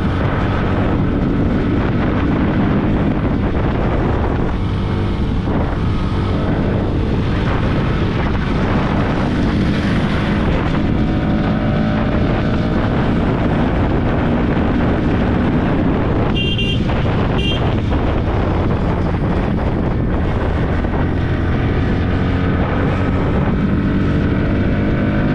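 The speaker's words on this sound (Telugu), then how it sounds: "థ్రాటిల్ ఇస్తున్నప్పుడు వచ్చే ఎగ్జాస్ట్ నోట్ వెరీ ఇంప్రెసివ్" A 2025 Bajaj Pulsar NS160 motorcycle is ridden under throttle, its exhaust giving a continuous loud engine drone mixed with heavy wind rush for the whole stretch.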